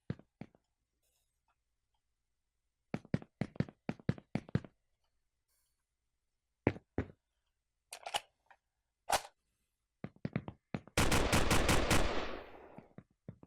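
Simulated gunfire from a weapon in a third-person survival game kit: scattered short bursts of rapid shots, then a loud, dense automatic volley that tails off at the end, with no talking.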